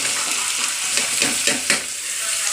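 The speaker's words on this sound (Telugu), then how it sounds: "సొరకాయ ముక్కలు చిన్న చిన్నగా కట్ చేసుకున్నాను. డైరెక్ట్గా వేసేస్తున్నా." Small pieces of bottle gourd frying in a little oil, with a loud close sizzle and a few quick stirring scrapes in a loose rhythm, one sharper knock near the middle.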